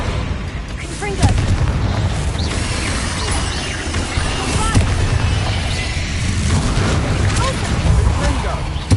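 Confringo blasting spells from a Harry Potter video game burst repeatedly, booming blasts over mechanical clatter, with a voice calling out the spell name between impacts.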